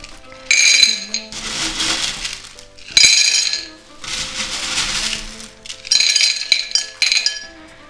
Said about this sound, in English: I'll put a layer of Leca like that